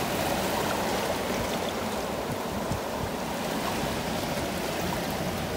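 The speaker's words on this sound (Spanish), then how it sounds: "escuchando el rumor del mar, de las olas reventando en las piedras y bañando las cálidas arenas de Boca de Iguanas" Sea waves roll and break over rocks onto the warm sand of Boca de Iguanas beach in Mexico, a steady close wash of surf and churning water with no pauses and no voices.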